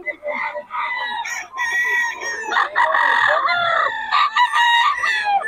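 Crowing roosters and clucking chickens are heard together at a Pangasinan poultry sale, with several loud overlapping calls in quick succession and almost no talk.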